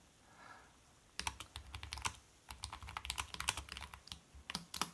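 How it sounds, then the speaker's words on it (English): A brief quiet pause, then rapid clicky keystrokes on a computer keyboard connected to an Android tablet, sharp and close, in uneven bursts. "And this keyboard's got a nice clicky sound."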